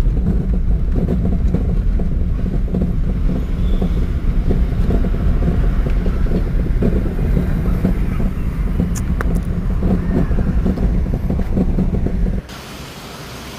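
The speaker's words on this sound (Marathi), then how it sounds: "गाडीचा जो आवाज येत होता हा रॅकचा रनिंग कंडिशनमध्ये तुम्ही पाहू शकता" A Maruti SX4 with a fully damaged steering rack runs, giving a steady, loud low rumble and rattle throughout, close to the microphone, before dropping to a quieter hum near the end.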